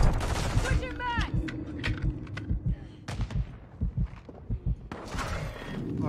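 Video game gunfire during a hardpoint match, a string of sharp shots and bursts popping over the game's ambient sound, with a voice talking intermittently near the end.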